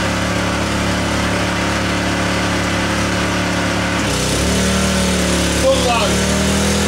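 Honda portable generator running with eco-throttle switched off, a steady close engine drone with a constant hum; partway through the pitch shifts and a voice speaks briefly over it.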